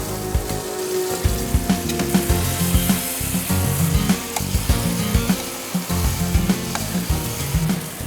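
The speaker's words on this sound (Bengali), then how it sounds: "চিকেনটা আমরা গ্রেভির সাথে অ্যাড করে দেবো" Pieces of shallow-fried chicken go into a bubbling Afghani curry gravy, raising a steady close sizzle with scraping stir sounds and clatters throughout, no voices.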